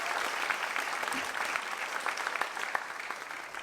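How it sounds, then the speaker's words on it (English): Audience at a seniors' talent show applauding the judges: dense, steady clapping from a crowd in a hall, moderately distant, with a few sharper claps standing out and no speech over it. "let's clap for them now."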